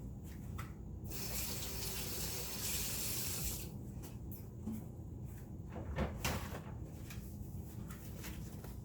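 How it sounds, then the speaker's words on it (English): A kitchen sink tap runs steadily while hands are washed beneath it during chicken salad preparation, with splashing water and a few light knocks, heard close and alone. "Wash my hands."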